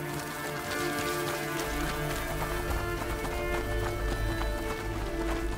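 Rhythmic hoofbeats of a galloping horse in A Plague Tale: Innocence over a steady, dense background of ambient game sound, continuous and fairly loud throughout.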